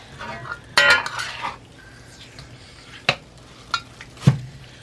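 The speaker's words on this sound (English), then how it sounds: "I'm going to go stir this up and cook this" Mongolian beef cooking in a pan, with a burst of sizzling followed by several sharp clinks and scrapes of a utensil stirring against the pan, close and without speech.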